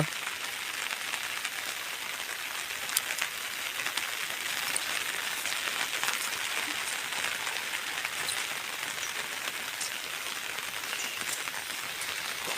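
Heavy rain pours steadily outdoors beside a flooded creek, a dense continuous hiss of drops on surfaces, loud and unbroken with no voices.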